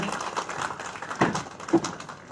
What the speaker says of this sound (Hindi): करताल ध्वनि से तालियां